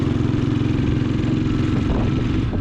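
A fully restored, custom-modified motorcycle with a handmade silencer idling nearby, a loud, rough, throbbing low rumble that holds steady without revving.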